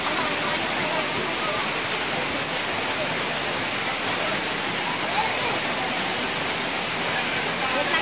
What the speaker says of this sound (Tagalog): Ayan, umuulan po siya dito ngayon.